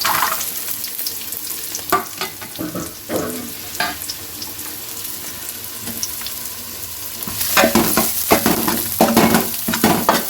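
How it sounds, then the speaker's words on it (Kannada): Cumin seeds frying in a pan, a crackling sizzle with repeated spatula scrapes that grow busier and louder toward the end, no voices. "ಚೂರು ಜೀರಿಗೆ ಎಡ್ಡ ಫ್ರೈ ಮಾಡಿ"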